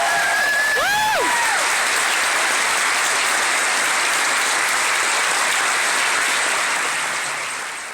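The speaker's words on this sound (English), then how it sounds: "Please give these exceptional soldiers a round of applause." Large audience applauding and cheering at an Army basic combat training graduation at Fort Sill, Oklahoma, with dense sustained clapping and a few whistles up front, fading slightly at the end.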